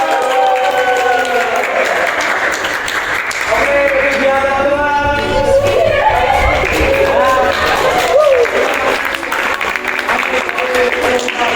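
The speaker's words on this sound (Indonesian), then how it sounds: "Tepuk tangan sekali lagi" Audience applause and crowd noise fill a comedy podcast stage show put on by a school class, steady and loud throughout, with a host talking over it.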